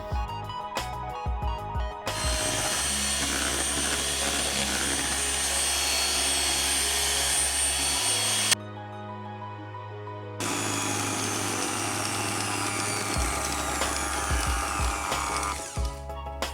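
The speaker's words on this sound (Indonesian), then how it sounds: "Dan ini saya akan menggunakan mixer digital dari Signora." A Signora digital electric mixer whips cake batter for lapis legit, a loud, close, steady motor whir that pauses once briefly and then resumes.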